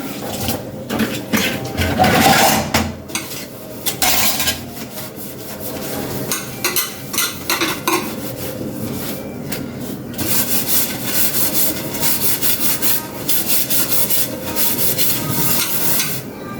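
Pots and pans being scrubbed by hand in a home kitchen, a steady close rubbing and scraping with a few clatters, continuous and fairly loud throughout with no talking.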